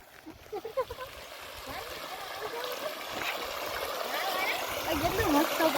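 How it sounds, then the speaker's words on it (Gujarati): Well water runs and gurgles steadily along a shallow farm irrigation channel, growing slightly louder, with faint voices in the background. "અહીંયા પાણી હાલ્યું જાય છે"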